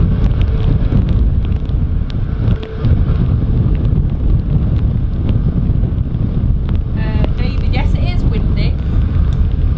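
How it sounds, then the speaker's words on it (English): Strong wind buffets the microphone at Manchester Airport in a constant loud roar, with faint voices briefly audible beneath it. "is it as windy as it sounds? It is probably more windy than it sounds."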